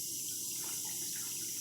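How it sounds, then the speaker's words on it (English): Water runs as a kitchen dishwasher starts filling, a steady close hiss of flowing water with no talking. "Listen to the water running."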